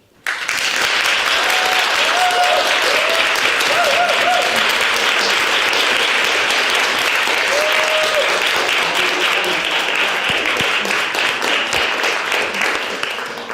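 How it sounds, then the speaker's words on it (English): Applause fills a council chamber during a full council meeting, with sustained clapping from the room that is loud and continuous for over ten seconds before tapering off at the end. "Well, unanimous applause."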